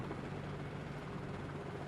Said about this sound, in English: This helicopter is crazy maneuverable, crazy agile.